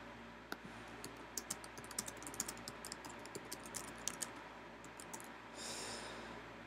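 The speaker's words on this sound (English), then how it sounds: "As I'm actually typing without looking at my keyboard in the dark." Someone types fast on a computer keyboard in the dark during a live Pokémon game, a close run of crisp, irregular key clicks ending in a softer burst, with no talk.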